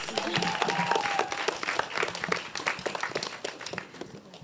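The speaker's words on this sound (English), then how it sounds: "Please, a round of applause." Audience applause at a summit gathering, a dense wash of many hands clapping that starts at full strength and gradually thins toward the end.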